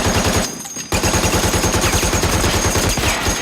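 Rapid, loud gunfire rattles near and continuous from a battle scene on Iwo Jima in a war TV series, with a brief lull before the shooting resumes as a sustained barrage.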